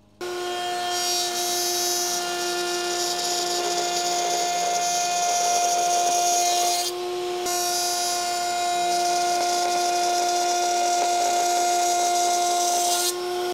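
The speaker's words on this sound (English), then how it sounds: "Now this router bit, when it's spinning, will try to push this wood sideways." A spinning router bit cutting dovetails into a wood piece clamped to a miter gauge gives a steady, loud high-pitched whine with a rough cutting texture, pausing briefly midway before continuing, with no talking.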